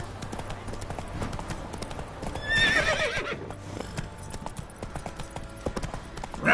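Hooves of the horse Roach clip-clop steadily in The Witcher 3 on PS5, with a bright whinny rising midway, all under game ambience and a soft voice.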